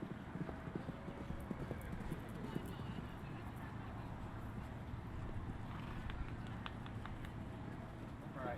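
Horse hooves clip-clop on the ground at a summer barrel racing event, faint and distant, with wind buffeting the microphone and people talking in the background.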